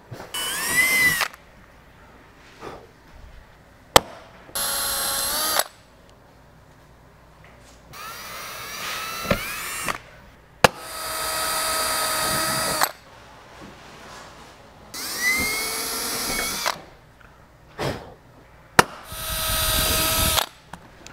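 A power drill bores holes for the wing brackets of a Camaro strutless drag wing, running in about six separate bursts of a few seconds each with a high whine and quiet gaps between them, close up and loud.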